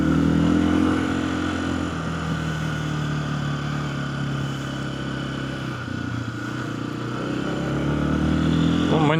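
A 2025 Lifan KPX 250 motorcycle engine runs loud and close during a test ride, holding a steady, buzzy drone that swells slightly near the start and end as the revs shift, with no one talking.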